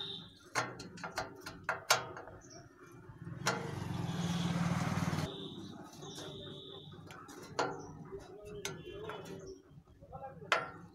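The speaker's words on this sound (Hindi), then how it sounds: "अब हम यहाँ पर जो इसका जो स्क्रू है इसको हम टाइट करेंगे।" Screw on a ceiling fan blade being tightened, a quiet run of small clicking and ratcheting ticks in irregular bursts, broken by a short stretch of louder rustling hiss, with some faint background sounds.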